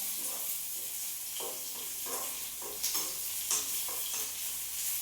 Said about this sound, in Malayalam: അങ്ങനെ ഉള്ളി വഴറ്റി കഴിഞ്ഞിട്ടുണ്ട്